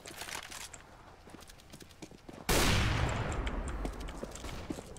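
Gunfire in the video game CS:GO: scattered quieter shots and clicks give way to a sudden loud burst of shots that rings on through a sustained noisy roar.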